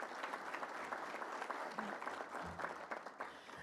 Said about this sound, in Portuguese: Mais uma salva de palmas ao meu amigo Odair